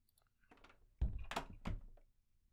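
A door thuds shut in a first-person horror video game, a dull heavy knock followed by a second softer bump, heard alone at moderate loudness.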